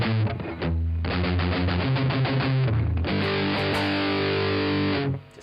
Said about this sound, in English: So putting that together with the distortion for you